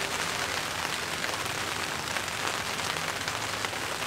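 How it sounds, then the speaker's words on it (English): Steady, dense rain drums on a blue camping tarp over a tent at a backyard camp, a close, even patter with no pauses and no voices. "having rain on the tarp, this tarp, blue tarp, this tarp here"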